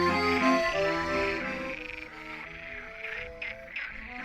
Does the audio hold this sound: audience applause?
no